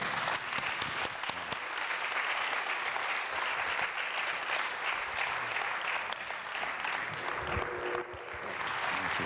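A church congregation at a Sunday morning service bursts into loud, sustained applause, a thick continuous roar of many hands clapping that dips briefly near the end before rising again.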